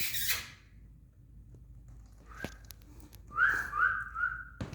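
A person tries to whistle for a dog, producing a few faint, airy attempts and then short rising squeaky whistle tones, with quiet gaps between them in a calm setting.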